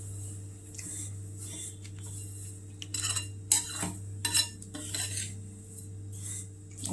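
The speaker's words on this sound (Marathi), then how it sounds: "आता तीळ पण भाजून घेऊया" Sesame seeds, with cumin and coriander to follow, dry-roast in a pan for Kolhapuri red chutney. A spoon stirs and scrapes against the pan in soft, intermittent strokes, with a few louder clatters in the middle.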